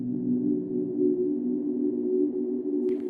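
Soft, sustained synthesizer sine-wave tone with a deep, heavy low end, held steady for piano house production, with a faint brief click near the end.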